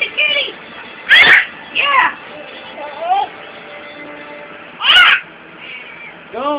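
A house cat meows several times in a home, loud and close, the cries spaced a few seconds apart over a soft background with faint rustling.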